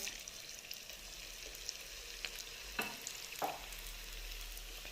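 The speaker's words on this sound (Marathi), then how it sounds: "आणि छान क्रिस्पी होईपर्यंत तळायचं आहे, खूप मोठ्या गॅसवर तळू नका." Vegetables deep frying in oil for veg 65, a soft, steady bubbling sizzle at low volume with a few brief clicks and scrapes scattered through, no voices.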